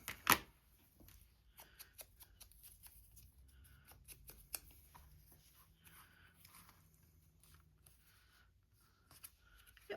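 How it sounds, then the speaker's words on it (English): Short, sharp scissor snips trimming the corners of paper, a quick irregular series of close clicks and cuts with soft paper handling in between. "just give a little bit of corner snips to make it look less new"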